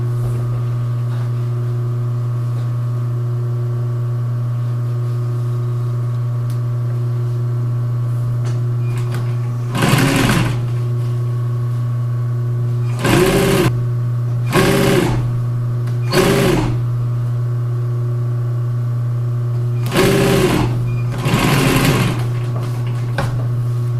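A sewing machine stitches upholstery cushion fabric for a wing chair, running in a few short bursts of rapid mechanical whirring separated by pauses, over a steady low hum.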